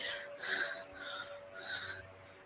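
A person imitates wheezing breath, a few raspy, strained inhalations and exhalations repeated close by, with no speech.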